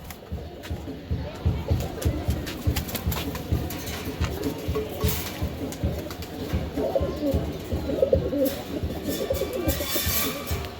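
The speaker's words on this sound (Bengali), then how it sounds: "আরেক প্যার হাই ফ্লেয়ার কবুতর আছে ইরানি হাই ফ্লেয়ার কবুতর" Iranian high flyer pigeons coo in a steady, overlapping murmur throughout, with a crowd chattering and general bustle in the background.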